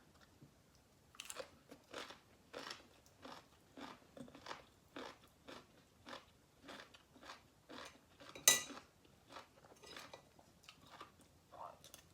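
Crunchy, close-up bites of Thai som tam eaten with pickled wild vegetables, repeating in a steady rhythm of about two per second, with one louder crunch partway through, against a quiet background.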